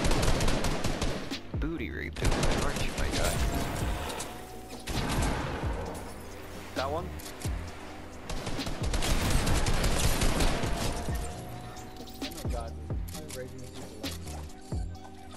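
Gunfire in a shooter video game squad match: repeated cracks and rattling bursts, some close and some farther off, running under excited, laughing voices.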